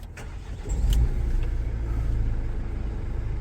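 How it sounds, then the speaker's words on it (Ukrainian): A used commercial vehicle with a manual gearbox and 194,000 km on it, seen at a car market, starts up: a brief cranking burst leads into a steady, fairly loud low idle rumble close by, with no talk. "Так, зараз ми а цей автомобіль заведемо."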